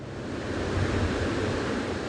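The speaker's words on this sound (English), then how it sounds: "The mighty waves of the Pacific pound the shoreline during what's called a king tide" Pacific Ocean waves pound the shoreline during a king tide, a loud, continuous roaring wash of surf with wind-like rumble and no voices.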